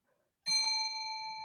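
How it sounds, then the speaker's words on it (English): A single clear bell ding rings out during a quiz on devotional philosophy, a sharp strike that keeps sustaining after quiet room tone. "there's the bell"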